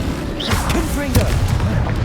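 A Confringo fire spell bursts with a deep boom in Hogwarts Legacy on PC, amid layered game effects, with a voice speaking over the blast.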